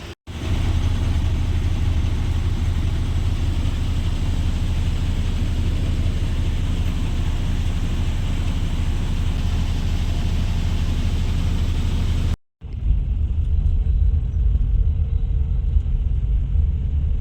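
AC sleeper bus on the Ratnagiri to Mumbai run, a steady loud low engine and road rumble filling the cabin, broken by a brief drop near the end before the drone resumes.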